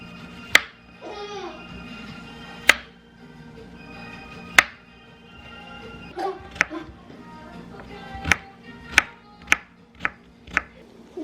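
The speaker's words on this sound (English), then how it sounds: "he's about to snack on a peach. So let's just go ahead and chop it." Knife chopping a peach on a cutting board for a toddler's snack, several sharp separate thuds spaced irregularly, quickening toward the end, with a brief child's vocal sound early on.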